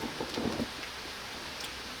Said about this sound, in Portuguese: Ainda tá chovendo. Tá no ronquinho ainda. De trovoada.